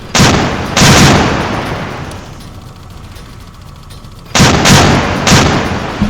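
Heavy naval gun turrets firing in the Victory At Sea Atlantic game: loud booming salvos, a pair near the start, a long rumbling decay, then three more blasts close together near the end.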